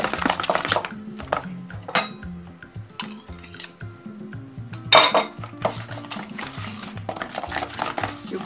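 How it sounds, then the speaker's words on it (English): Butter and egg being creamed together by hand in a bowl for homemade biscuit dough, with repeated scraping and clinking of a utensil against the bowl and a sharp clatter midway, close and fairly loud. "You cream it in. You bind the egg and the butter together now."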